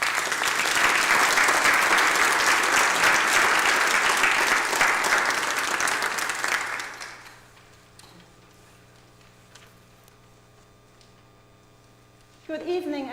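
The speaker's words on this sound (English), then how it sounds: "Let's give a round of applause." An audience applauds at an Advent organ recital in St. Mary Catholic Community church, with a loud, sustained round of clapping for about seven seconds that fades into quiet room hum before a voice begins speaking.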